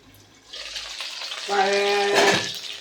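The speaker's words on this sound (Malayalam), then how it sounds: "ഇപ്പോൾ വഴണ്ട് നല്ലോണം വഴറ്റിയെടുക്കണം." Eggplant sautés in a pan for a tamarind curry, giving a soft sizzle with stirring that grows louder midway, joined by a brief tonal ring before it eases off.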